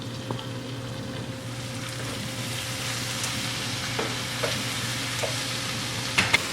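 Onions caramelizing in a pot for French onion and potato soup are stirred and sizzle quietly, with a steady low frying hiss and a few soft spoon scrapes close by.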